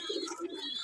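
High-flyer pigeons give a brief, soft coo close by, one short rolling call with no talking over it.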